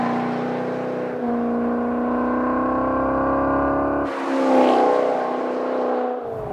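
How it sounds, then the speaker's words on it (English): A 2013 Maserati GranTurismo in manual mode with its exhaust valves open gives a steady, deep, rich exhaust drone, then swells into a louder, rougher rev before settling again. "You slide it in manual mode, and the exhaust opens up, and you just get a deeper, rich tone"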